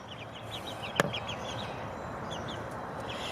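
Hens cluck softly in a small flock, a scattering of short repeated calls at moderate distance, with one sharp knock partway through and no talking.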